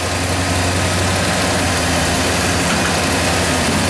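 A carpet cleaning truck-mount blower runs loud and steady with a constant low engine-like drone and rumble, with no pauses and no voice.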